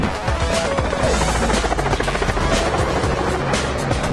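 A military helicopter in flight roars loudly and continuously with a dense, steady rotor wash filling the whole stretch.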